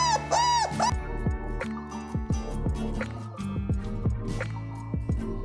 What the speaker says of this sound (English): You got it, it's a dog.